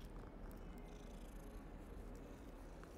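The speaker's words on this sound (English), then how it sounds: "No, it's just petting a cat." A cat in Hogwarts Legacy purrs while being petted, a steady low rumbling drone that continues evenly throughout without talking.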